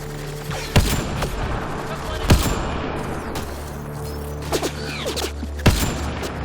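Sniper rifle shots sound in the video game Mass Effect Andromeda, with several sharp, loud cracks spaced a second or two apart over a busy background of combat rumble and mechanical noise.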